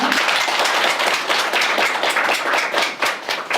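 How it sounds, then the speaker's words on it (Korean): A lecture audience at a Korean book-launch talk claps loudly to welcome lecturer Lee Jong-muk, with close, dense handclaps that keep up a vigorous pace throughout. "이종묵 강사님을 큰 박수로 맞이할게요"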